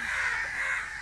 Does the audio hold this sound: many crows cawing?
yes